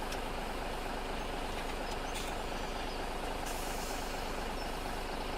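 A purple truck in Farming Simulator 17 on a wheat-hauling run: steady engine drone and idle rumble, with a couple of brief hissing bursts like air brakes, no talk.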